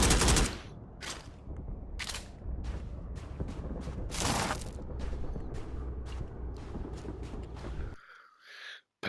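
AK rifle firing in the video game Strike Force 3, a loud run of sharp bursts and single shots at irregular intervals across most of the stretch, ending in a quiet break with a faint sound at the close.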